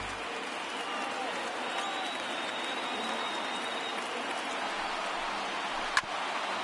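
A crowd of over 39,000 at a Dodgers versus Blue Jays baseball game roars in a steady, wide wash of cheering and applause, with one sharp knock near the end.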